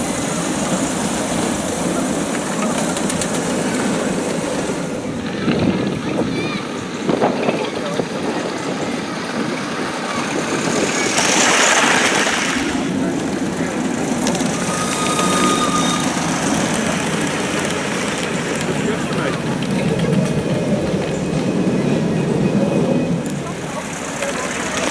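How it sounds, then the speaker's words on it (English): A standard gauge German class 64 tank locomotive hauls a mixed goods train, a steady rumbling engine and rolling wagon noise running throughout at moderate distance, with a brief louder swell midway. "we now have a standard gauge German 64 class locomotive pulling some"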